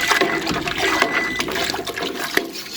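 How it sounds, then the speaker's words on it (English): Hibiscus tea is stirred vigorously in a cup, giving a continuous liquid swishing and sloshing with small clinks, close up. "Then you got to stir it really well"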